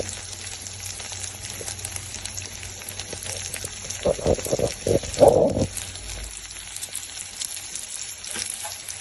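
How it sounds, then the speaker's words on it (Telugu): Ginger garlic paste fries in a pan with a steady close sizzle. A brief burst of louder spluttering and stirring comes midway, then it settles back to a constant hiss. "అన్నీ వేగాక అల్లం వెల్లుల్లి పేస్ట్ కొంచెం వేస్తాము"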